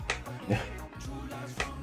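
Taut Tennessee leather lacing on a baseball glove is plucked, giving a few short, sharp snaps spaced out over quiet handling noise, close and fairly soft.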